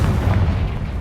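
A Confringo fire-blast spell explodes in Hogwarts Legacy, one loud, close, booming burst with a rumbling low end that fills the whole moment.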